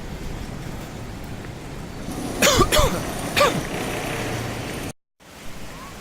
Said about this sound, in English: even a short walk here in the smog, it instantly gives me cough.